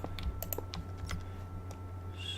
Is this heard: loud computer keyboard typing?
yes